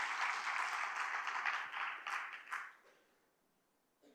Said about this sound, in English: So clap for ourselves